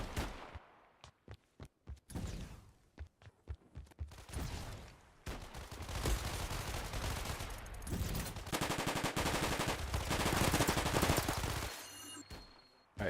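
An SMG fires in the pre-alpha shooter Shatter Rush, first as separated single shots and short bursts, then as long, loud, sustained automatic volleys.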